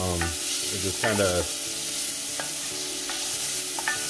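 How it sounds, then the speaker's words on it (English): Risotto stirred with a wooden spoon in a pan, a steady sizzle with soft scraping strokes running under a person talking. "you always want to cook risotto with a wooden spoon."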